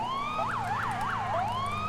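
Police car siren from the LCPDFR video game set in Baltimore, a loud wailing then rapid yelping pattern rising and falling over a steady engine hum, close and continuous.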